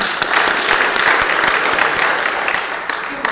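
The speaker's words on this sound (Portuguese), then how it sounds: "solicito a todos que saudemos o pavilhão nacional com uma salva de palmas" Loud applause fills a council chamber at the close of a municipal meeting as attendees salute the national flag, dense clapping from the gathered crowd that is sustained and close.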